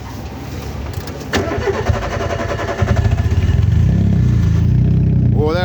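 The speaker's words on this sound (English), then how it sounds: "start it up and let us hear it so people can just hear what this actually sounds like compared to what they might imagine a Nissan Micra sounding" A Nissan Micra rally car engine cranks, catches and starts, then settles into a rough idle before climbing into a steady, loud rev near the end.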